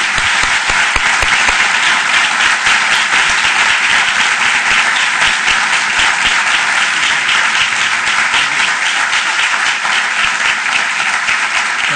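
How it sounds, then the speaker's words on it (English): A lecture hall audience at a law school gives a long, even round of applause welcoming civil rights leader Julian Bond, with dense, continuous clapping that holds at full strength for twelve seconds. "I hope you'll join me right now with another round of applause to welcome Julian Bond"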